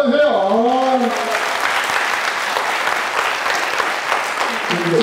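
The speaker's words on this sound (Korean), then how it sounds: "박수 한번 주세요." Studio audience at a Korean talk show bursts into steady, full applause right after a speaker's voice trails off, the dense clapping holding for several seconds before another voice begins underneath near the end.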